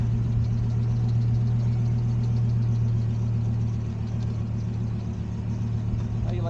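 A car engine runs with a steady low hum and rumble under light road noise during a test drive, faint voices occasionally present.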